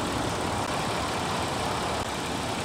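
A Nissan Infiniti engine idles steadily, a dense continuous mechanical rumble close to the mic with no talk.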